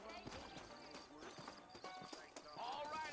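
Horse hooves clip-clop at a steady walking rhythm in the Red Dead Redemption western game, with a short whinny near the end, under game music and ambience.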